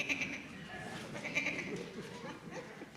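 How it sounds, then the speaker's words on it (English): A sheep bleats in the fields at a Christmas pageant in a church setting, a short wavering baa, soft and somewhat distant over a low hum from the room. "If you listen carefully, maybe you can hear the sheep"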